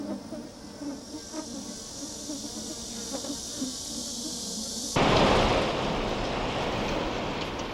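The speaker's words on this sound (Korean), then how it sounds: "앉을 수 있는 곳이면 어디든 들러붙는 파리떼." A swarm of houseflies buzzes over a village, with a constant high drone and scattered clicks, then the sound abruptly becomes louder and denser.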